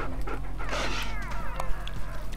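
A dog pants in the video game Far Cry Primal, quick close breathy huffs with a faint whimper over a low background hum.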